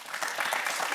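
A studio audience on a Norwegian Eurovision preview show breaks into steady, fairly loud applause that carries on through the whole moment without pause.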